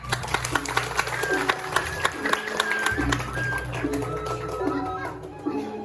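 An audience at a Balinese Drama Gong performance claps steadily for several seconds, a busy wash of hand claps with sharper individual slaps, while a voice talks over it and a low tone sustains beneath.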